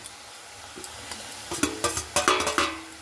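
A spoon scrapes and stirs fried potatoes through spice masala in a pan for ghugni, a series of sharp clinks and scrapes growing busier and louder over a faint sizzle, no talk.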